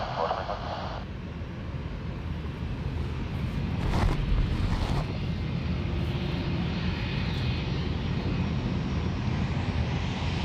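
Airliner rolling for takeoff on runway 16 right at Sydney Airport, a steady broadband engine roar heard from a distance with wind rumble, swelling slightly midway, with faint voices or radio chatter underneath.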